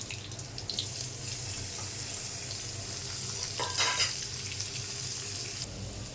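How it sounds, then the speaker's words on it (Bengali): Chopped onion frying in hot oil with panch phoron and a bay leaf, added after potatoes have browned, a steady close sizzle with a brief louder hiss and clatter of stirring partway through. "পাঁচফোড়ন দিলাম, একটা তেজপাতা, পেঁয়াজটা ভাজা দেবো"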